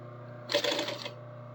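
A sewing machine running long stitches gives a brief, dense mechanical burst of about half a second that rises over a steady low hum, then stops.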